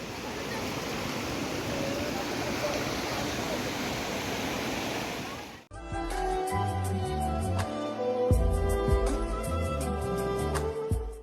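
Gundichaghai waterfall pours with a steady broadband rush for about five seconds before the roar cuts off and music takes over.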